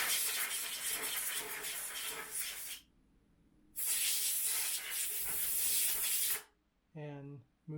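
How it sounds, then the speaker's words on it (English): Canned air sprays in two long, close, loud hissing bursts into a sewing machine to clear lint, separated by a short pause, and a voice speaks briefly at the end. "we like to use the canned air and spray that"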